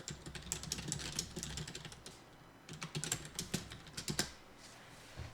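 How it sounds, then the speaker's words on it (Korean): Keyboard typing while a short comment is entered on Instagram, a quick irregular run of close key clicks with a brief pause midway, no voices. "그래서 간단히 댓글을 적고 게시를 하면은 댓글이 올라가겠죠"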